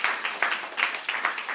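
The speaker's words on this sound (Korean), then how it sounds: "우리 청소년 친구들에게 우리 박수 한번 격려의 박수 한번 해줄까요?" A church congregation at a Wednesday revival service applauds its youth group: a steady, dense wash of many hands clapping, with soft rhythmic swells recurring throughout the short burst.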